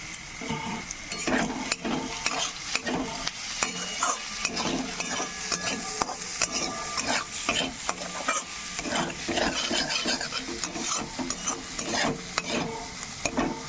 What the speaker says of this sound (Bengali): ভালো করে ভাজা করে নিতে হবে।